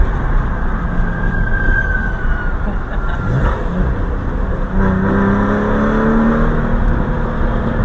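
A Porsche 911 Carrera engine revs up and holds a loud, rough roar over steady road rumble, with a rising whine near the end.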